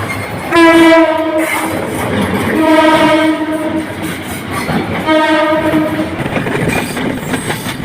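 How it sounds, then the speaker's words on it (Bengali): The Chitra Express runs past close by on a Dhaka line beneath an overbridge. Its horn sounds three loud, sustained blasts over the rolling clatter of the wheels. "আর নিচ দিয়ে কিন্তু ট্রেন যাচ্ছে"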